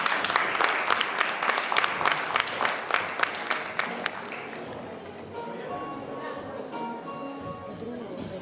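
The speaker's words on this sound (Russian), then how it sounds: "Аплодисменты, ребята!" A crowd at a New Year's ball claps in warm, dense applause that fades after a few seconds into a quieter hall murmur with faint voices.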